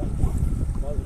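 Brief, steady wind buffeting a microphone on a fishing boat on open water, a low rushing roar with a voice faintly under it.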